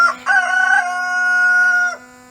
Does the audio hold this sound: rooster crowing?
yes